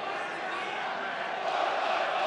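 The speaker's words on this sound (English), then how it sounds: "You can hear the crowd getting into it." Darts crowd at the 2017 Melbourne Masters semi-final between Taylor and Whitlock, a continuous roar of voices and chanting in an arena, steady and fairly loud throughout.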